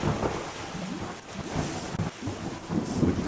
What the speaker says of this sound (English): We could wait for the rain here to help a little bit up here.